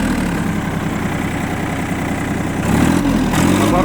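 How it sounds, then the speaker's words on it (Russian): A steady, even idle from the engine of an ISEKI TU257 mini tractor with 552 engine hours, close and continuous with a low, droning hum and no talk. "Двигатель работает ровно."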